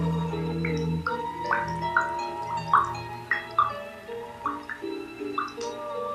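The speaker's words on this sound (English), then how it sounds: "Listen to my heart. It's dripping like a leaky tap" Irregular bright plinks like water drops from a leaky tap fall over a low sustained musical drone, each drip distinct and fairly close, spaced unevenly across the stretch.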